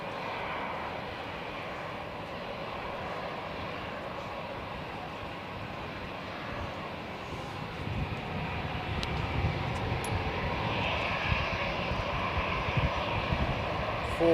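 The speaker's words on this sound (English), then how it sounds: "I think we'll see this A340 depart first." An Airbus A340 airliner departs Zurich airport, its broad jet engine roar steady and distant at first, then swelling slightly louder in the second half with no talk over it.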